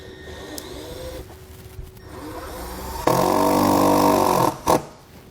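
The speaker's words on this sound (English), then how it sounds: "we're just going to run one down into each hole on our mount here" A drill drives screws into the mount of a MaxxFan Deluxe roof vent on a 2018 Jayco Greyhawk motorhome: quiet handling first, then one loud, close, sustained whir of about a second and a half, followed by a brief final burst.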